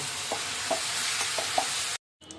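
Food stirred in a frying pan on a home stove, a steady sizzle with a few soft scraping knocks of the spoon, then a sudden cut to silence and a faint return.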